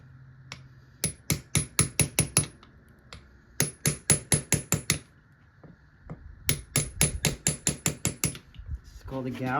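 A farrier drives a hammer down on horseshoe nails to clinch them over on a horse's hoof. Sharp metallic taps land close up in three quick bursts of about eight blows each, with short pauses between the bursts.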